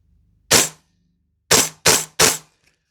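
An EMG CYMA Noveske N4 airsoft rifle fed from a Guns Modify P mag fires four sharp, loud, close shots: one alone, then a pause, then three in quick succession.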